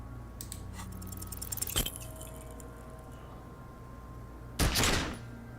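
Two sharp pistol shots ring out in the detective game Disco Elysium, one near the middle and a louder one near the end, over a quiet ambient bed with faint clinks.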